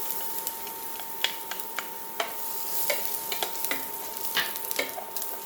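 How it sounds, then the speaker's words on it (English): Garlic sizzles and crackles in hot fat in a pan, with soft scattered pops and faint stirring taps throughout. "so it can sizzle a little bit"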